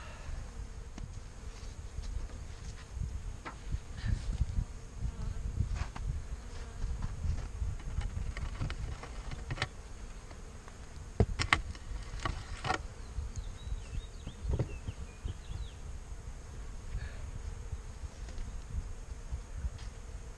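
Bees buzz busily at the entrance of a winter hive fitted with a German-style hive bottom, a continuous close drone with individual insects passing louder now and then over a quiet background.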